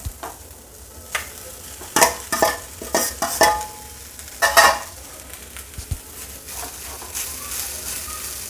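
Cooked rice is tipped into a frying pan and stirred, giving a soft sizzle with a cluster of scraping, clattering spoon strokes in the middle, then quieter frying toward the end.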